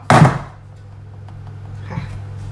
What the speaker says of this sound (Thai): กระแทกเขาสักสองสามครั้งนะคะไล่ลมเนาะ